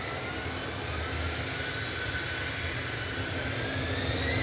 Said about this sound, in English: Air France departing back to Paris Charles de Gaulle